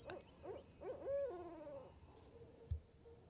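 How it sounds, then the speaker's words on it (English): A barred owl calls at night in the woods along a backcountry creek: a single distant hooting phrase of a few rising and falling notes over steady insect and cricket drone, followed by a brief soft thump. "I just heard a barred owl back behind me."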